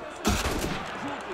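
A sudden loud burst of gunfire cracks out in the PC game Assassin's Creed Unity, followed by a short rattling tail of echoing shots and faint background game sounds.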